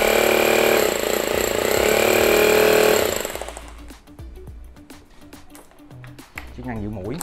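Electric rotary hammer drill running in concrete drilling mode, a loud continuous hammering roar for about three seconds that cuts off, followed by clicks and handling noise.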